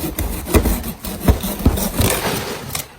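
An old hand saw cuts through a palm tree in uneven rasping strokes, close and fairly loud, with short pauses between pushes.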